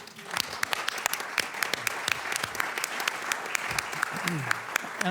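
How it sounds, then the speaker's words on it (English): A room of attendees at a World IP Day event on Capitol Hill breaks into a round of applause, a continuous, moderately loud clapping with sharp individual claps standing out throughout. "That deserves a round of applause."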